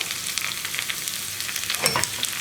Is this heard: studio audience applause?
no